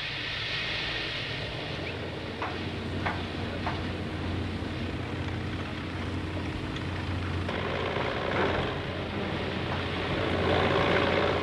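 Eight out-of-commission turbojet engines roar steadily at the Orly airport fog-dispersal unit, a continuous loud blast of exhaust with no break and a slight swell near the end.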